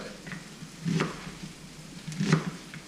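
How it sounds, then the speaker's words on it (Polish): Chopped onion frying with mushrooms in a pan, a quiet steady sizzle with two brief louder bursts of stirring or scraping spaced about a second apart. "Jak już mamy cebulkę ładnie pokrojoną, wrzucamy je do naszych pieczarek"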